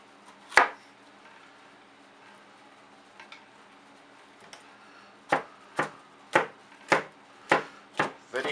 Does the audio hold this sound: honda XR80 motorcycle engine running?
no